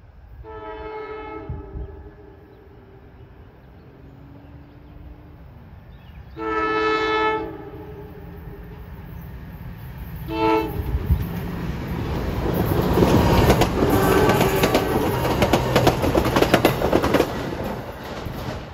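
A passenger train on a scenic New Jersey branch line sounds three long horn blasts, then rumbles past close by with rising rolling noise and wheel clatter that builds and holds to the end.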